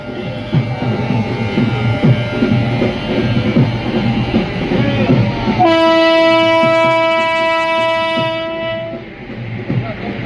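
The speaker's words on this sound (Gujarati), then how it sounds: "આજે ભુજ રેલવે સ્ટેશન ઉપરથી ભુજ દિલ્હી ટ્રેનને વિધિવત પ્રસ્થાન કરાવાયું" A loud Bhuj–Delhi train rumbles and clatters nearby at Bhuj railway station on its inaugural departure, then a long, sustained horn blast sounds over the rolling noise for several seconds before fading.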